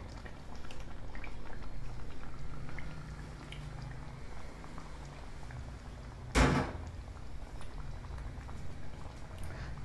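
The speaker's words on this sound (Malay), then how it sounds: "Kita masukkan yogurt satu cawan." A cup of yogurt goes into a biryani pot over steady bubbling, landing as a single short, soft splat about two-thirds of the way through.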